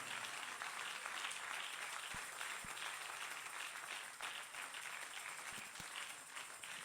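Congregation in a church applauding and cheering during a sermon, a dense, steady wash of clapping and crowd noise that holds throughout.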